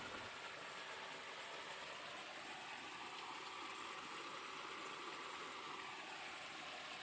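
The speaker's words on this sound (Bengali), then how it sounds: "মোটর লাগিয়ে দিলাম।" An electric motor pump runs steadily in a fish pond with polluted water, giving a constant broadband whir and watery rush that stays even and unbroken throughout, with no voices.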